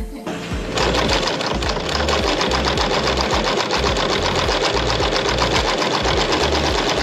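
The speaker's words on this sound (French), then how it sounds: "Maintenant, c'est place à la couture." A sewing machine stitching a mosquito net for a converted van, running in a fast, steady, close mechanical rattle that continues almost unbroken after a brief start.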